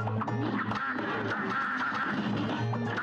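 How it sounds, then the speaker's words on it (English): A duck in the video game Cuphead quacks over and over in a loud, nasal rhythm, set against busy game music. "Quack."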